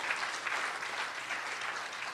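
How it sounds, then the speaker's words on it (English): Audience applause for performers at a UNICEF event in St. Kitts and Nevis: a thick, continuous wash of clapping from a crowd that stays steady and fairly loud for the whole short stretch. "Let us give those who performed a tremendous round of applause again."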